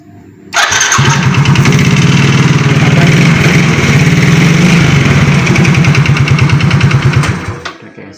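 A motorcycle engine cranks over via its electric starter, catches and runs with a loud, rapid, throbbing idle before cutting off.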